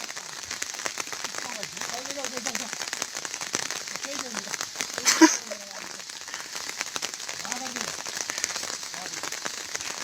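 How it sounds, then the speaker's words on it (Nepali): Light drizzling rain pattering steadily on surfaces outdoors in hill country during daytime, soft and continuous, with faint voices and a brief louder knock midway. "सिमसिम पानी परिरहेको छ।"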